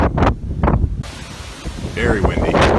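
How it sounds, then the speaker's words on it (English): Strong wind outdoors in Guam near the ocean, heavy gusts buffeting the microphone in loud rumbling bursts, with a voice briefly talking underneath. "Very windy."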